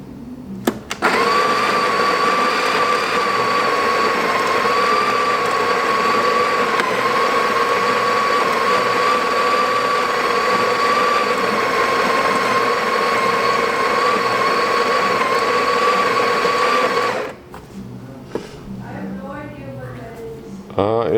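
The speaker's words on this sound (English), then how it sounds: "let's go ahead and grind some coffee." A burr coffee grinder on a Breville espresso machine grinds a batch of coffee beans with a loud, steady whirring drone that runs close up for about sixteen seconds before cutting off, followed by light handling sounds.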